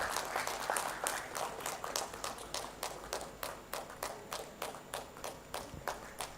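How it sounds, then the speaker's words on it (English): Audience applause at the Odisha Tex 2025 event, a steady round of claps that thins into sparse, separate hand claps over several seconds, moderately distant. "That deserves a big round of applause, ladies and gentlemen."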